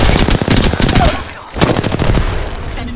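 Rapid automatic gunfire in the shooter game Apex Legends, loud bursts of close shots with a brief pause midway before firing resumes.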